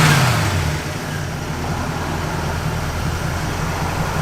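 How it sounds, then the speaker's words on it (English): A 1970 Pontiac Grand Prix engine runs steadily close by, holding a smooth, even drone after a slight drop in level near the start, with no voices. "Car runs out just as sweet as it can be."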